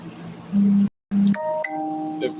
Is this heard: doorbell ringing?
yes